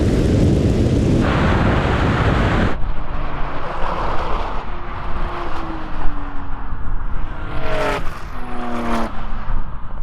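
Several generations of Porsche 911 Turbo launch in a drag race, a loud roaring wall of engine noise that drops away, then rising gear-change whines and revving as the cars pull into the distance.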